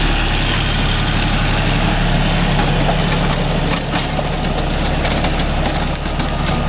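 A John Deere 5105 40 hp tractor engine runs steadily at a low, even idle on a farm, a constant close rumble with no talk over it.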